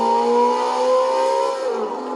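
A V8 car engine in the racing game Forza Horizon 4 revs loudly and steadily at high rpm, with its pitch sagging slightly near the end.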